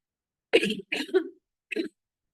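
Three short, hoarse coughs in a quiet room, the first two close together and a final one after a brief pause.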